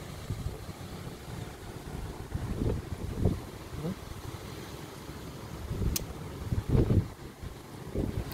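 Strong storm wind buffets and roars steadily in gusts, with rain beneath and rustling trees, loud and close. A voice speaks faintly at moments.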